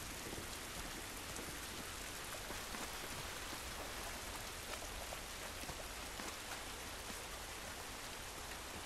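Heavy rainfall in The Last of Us, a constant close hiss of raindrops pattering on surfaces, unbroken and even in level from start to finish, with nobody talking.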